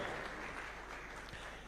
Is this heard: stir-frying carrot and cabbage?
no